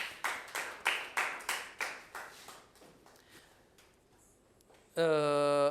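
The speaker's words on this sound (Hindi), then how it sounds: "तालियां बजाएं इसके लिए" Children clap for a student in a classroom with a steady run of about ten hand claps that fade away, followed by a sudden loud tonal tone.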